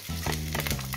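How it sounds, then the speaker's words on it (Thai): Chinese sausage stir-frying with fried shallots and white turmeric in a hot pan, a close, steady sizzle with scraping stirring strokes, no talking. "แล้วก็จะผัดให้กุนเชียงเขาสุกไปกับหอมเจียวนะคะ"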